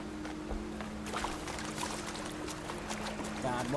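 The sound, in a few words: walking through water in Horizon Zero Dawn video game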